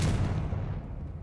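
A Confringo fire spell blast from the Hogwarts Legacy video game, a single loud booming burst that decays over about a second with no talk over it.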